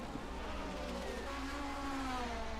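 Race cars in a 1979 DRM Division 2 round at the Mainz-Finthen airfield circuit accelerate hard out of a turn, with engine notes climbing in pitch as they pass at moderate distance.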